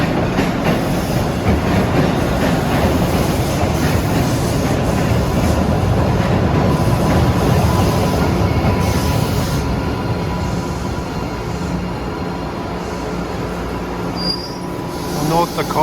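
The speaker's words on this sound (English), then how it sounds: "There's a train headed down into Bowdoin, downtown." An MBTA Blue Line subway train rolls past loudly in a Boston station, its wheels squealing over a continuous rumble and clatter of the cars, steady for the full stretch before easing slightly.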